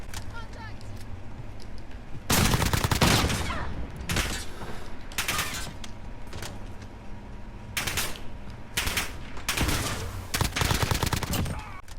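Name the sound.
gunfire in a video game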